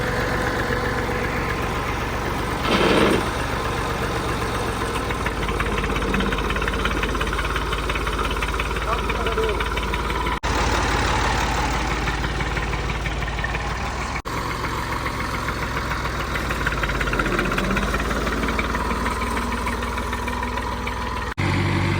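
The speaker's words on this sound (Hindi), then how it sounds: "ट्रैक्टर माशाल्लाह चल पड़ा है।" A tractor engine runs steadily nearby, a continuous low chugging rumble with no pauses.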